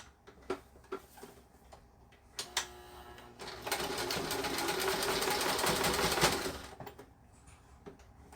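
A sewing machine stitches a diagonal seam, starting with a few separate ticks and clicks and then settling into a steady, close mechanical whirring run of several seconds before stopping.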